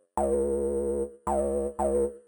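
An acid synth bass layered under the main bass, its tone wobbling under LFO modulation, plays three squelchy sustained notes, loud and close, with no speech.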